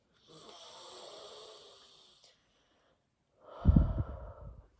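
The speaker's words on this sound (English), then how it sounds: "Let's just take a big breath." A slow deep breath during a relaxation exercise: a long soft airy inhale, a pause of silence, then a louder, rougher exhale close to the microphone.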